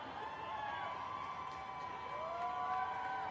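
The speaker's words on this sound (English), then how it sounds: "And the crowd goes wild." Crowd at a professional wrestling match cheering and whooping steadily throughout, a dense roar of many voices that swells slightly louder near the end.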